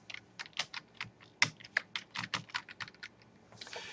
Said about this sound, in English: now we're ready to start typing